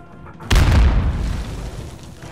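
A cruise missile detonates in a video game battle, a sudden loud boom with a deep low rumble that hits hard and then rolls off into a fading roar over the next two seconds.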